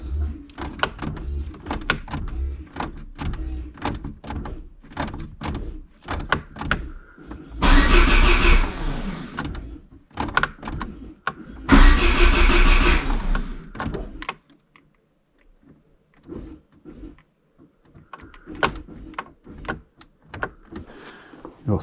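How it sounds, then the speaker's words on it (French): Peugeot 205 GTI under restoration: repeated sharp clicks as the ignition is switched on, then two loud cranking bursts of about three seconds each, with the fuel pump priming in between and quieter clicks afterward. "Je vais mettre plusieurs fois le contact en espérant d'entendre la pompe à essence qui change de bruit."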